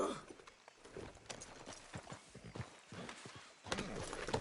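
Restless horse acting up, a faint series of irregular hoof clip-clops and shuffling thuds, with a brief louder burst near the end.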